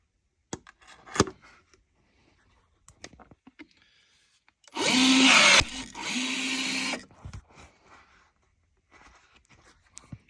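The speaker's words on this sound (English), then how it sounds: "Just throw a rivet on there." Rivets are set into parts of a 3D printed minnow trap, heard as scattered clicks and taps followed by two sustained, loud mechanical bursts from the riveting tool.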